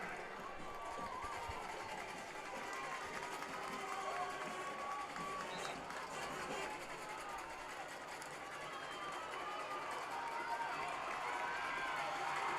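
A fired-up crowd and student section band roar at a crosstown rival high school football game between Biloxi and D'Iberville, a dense steady wall of cheering and noise heard at a distance, with no distinct breaks.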